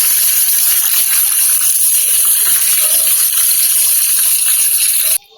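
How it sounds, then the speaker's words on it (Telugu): Pieces of fish are rinsed in running water in a home kitchen, a loud, steady gushing wash that stops abruptly at the end. "లాస్ట్ టైం వేస్తున్నానండి, ఇంకొకసారి కడుక్కుంటున్నాను శుభ్రంగా"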